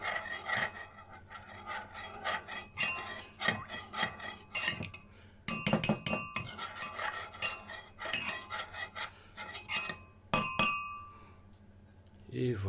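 Spoon scraping and clinking against bowls while a ground cinnamon and honey mixture is stirred, with a busy run of rasping strokes and light taps up close and a little talk mixed in.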